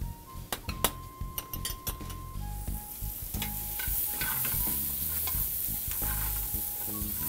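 Portobello mushrooms and garlic sautéing in a pan, opening with clinks and scrapes of a utensil against the pan and then settling into a steady, close sizzle with stirring noises, no voices.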